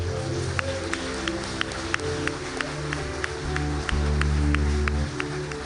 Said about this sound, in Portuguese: Aplaude o nome dele